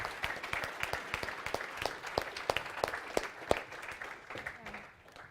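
An award-ceremony audience at a district energy climate awards event applauds a winning scheme, a steady patter of many hands at moderate distance that fades toward the end.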